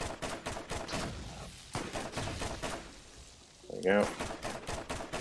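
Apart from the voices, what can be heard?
combat rifle gunfire in video game Borderlands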